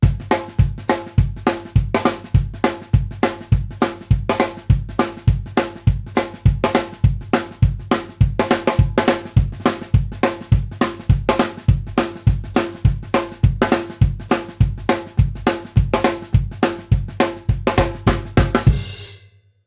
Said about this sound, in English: And that same example swung, maybe a little bit slower, would sound like this.